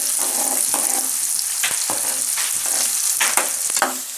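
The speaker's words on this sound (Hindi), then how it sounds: "प्याज को हम हल्का ब्राउन कर लेंगे।" Onions frying in a pan until light brown for a dhaba-style egg dal, a steady hiss of sizzling oil broken by occasional stirring scrapes, close and continuous with no talk.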